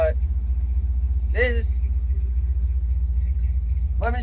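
Car engine fitted with a Quadrajet carburetor idling at about 1000 RPM, a steady low rumble holding even throughout while someone talks over it in short bursts.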